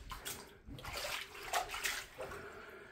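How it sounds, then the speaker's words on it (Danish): Floodwater running into a flooded apartment makes a continuous, fairly faint rushing and splashing wash, steady throughout with no voices. "Der er vand over det hele."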